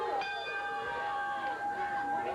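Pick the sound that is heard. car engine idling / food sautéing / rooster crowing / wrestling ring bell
wrestling ring bell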